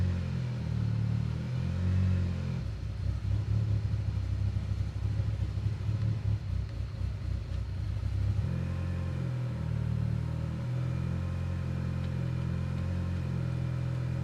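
A Mitsubishi Lancer Evo X engine runs roughly on its own, its low rumble surging and dipping unevenly as it struggles to hold a steady idle, close and steady throughout.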